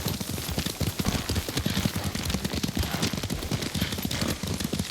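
Horse hooves clop in a steady, rapid galloping rhythm in the Ghost of Tsushima game, close and continuous, with a light rain-like hiss behind them.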